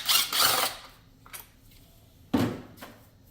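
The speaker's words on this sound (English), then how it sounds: "So I like to take this 10mm bolt off first." A ratchet loosening a 10mm bolt on the engine of a 2013-2017 Honda Accord during spark plug replacement: a close burst of rapid clicking, then a few short separate clicks and one more sharp burst, with no talking.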